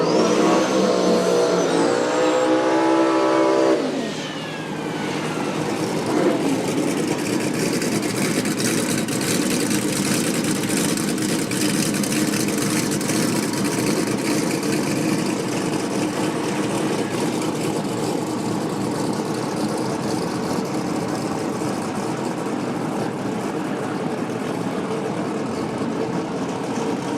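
Drift cars rev hard during a showcase run, a loud, continuous engine roar with sharp revving rises early on, then a steady mid-pitched drone holding through the rest without a break.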